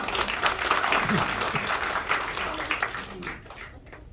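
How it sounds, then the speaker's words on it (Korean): A church congregation at Sunday worship applauds a young worship singer: a burst of lively clapping at moderate distance that holds for about three seconds before quickly dying away. "박수 한번 주세요"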